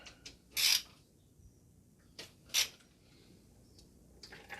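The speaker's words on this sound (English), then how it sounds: "you want to remove your oil filter housing" A ratchet wrench loosens the 8mm oil filter housing bolts on a Yamaha YZF R125 motorcycle during an oil change, giving two short, close, crisp bursts of clicking with quiet pauses between them and a faint click near the end.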